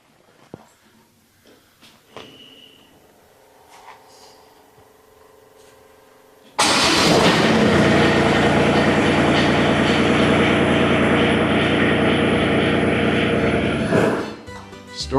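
A Kubota diesel zero-turn mower with new glow plugs starts at once after quiet clicks and rattles, its engine rising into a loud steady roar that holds for about eight seconds before dropping off.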